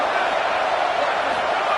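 A football stadium crowd roars during BYU at Notre Dame, a dense, steady wall of noise pressing on the offense and holding level throughout without a break.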